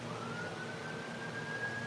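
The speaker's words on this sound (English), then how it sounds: "Okay, I'm hearing sirens outside" Several emergency vehicle sirens wailing outside, a faint, distant, steady tone rising slowly in pitch over low background rumble.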